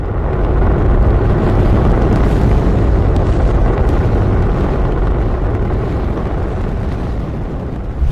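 A Saturn V first-stage rocket engine fires at launch, producing 1.5 million pounds of thrust: a massive, continuous roaring rumble, loud and steady for several seconds, deep and overwhelming, easing slightly toward the end.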